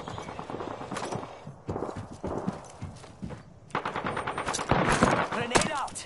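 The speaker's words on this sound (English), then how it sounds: "Enemies are shooting at me." Enemy gunfire in a PS4 video game, sharp rapid bursts cracking out in quick clusters amid other game noise and a few spoken callouts.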